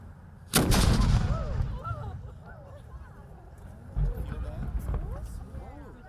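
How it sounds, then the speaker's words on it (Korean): A single heavy boom of a historic artillery cannon firing at Fort McHenry cracks out loud, then rolls and echoes away outdoors while people talk in the background; a second dull thud follows later. "throughout the summer, we fire artillery a lot here at Fort McHenry"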